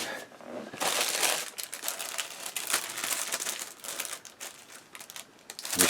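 Crinkly plastic of a resealable bag holding model kit sprues for a 1/35 Takom Type 69-II tank, handled close up in continuous rustling and crackling bursts over about six seconds with no talking.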